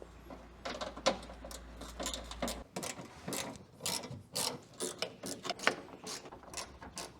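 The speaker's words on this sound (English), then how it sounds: "Remove the 3 8mm screws on both sides inside the wheel arch." A hand ratchet clicks in quick bursts while backing out 8mm screws inside the wheel arch of a BMW M2, the rapid pawl ticking close and repeated, with brief pauses between strokes.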